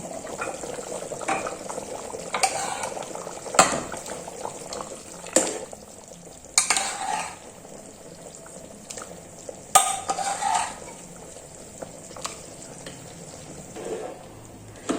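A spoon stirs chicken with soft-cooked whole masoor lentils in a pan, making intermittent scraping and knocking strokes against the metal over a low bubbling simmer.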